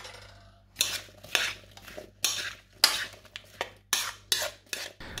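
A spoon stirs apple pieces with lemon juice and sugar in a bowl, about a dozen distinct scraping, clinking strokes in a quick irregular rhythm, close and clear.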